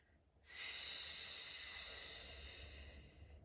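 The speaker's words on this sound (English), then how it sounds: "Deep breath in, drawing the arms up. Big exhale." A long, deep breathy exhale during a pilates breathing exercise, starting abruptly after a quiet moment and trailing off gradually over a few seconds, close and soft.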